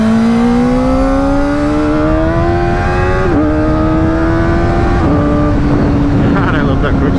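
A Kawasaki ZX4R motorcycle engine revs hard and climbs steadily, with quick-shifter gear changes as brief dips before the pitch rises again, loud and close.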